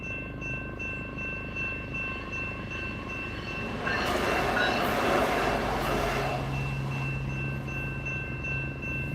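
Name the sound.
train passing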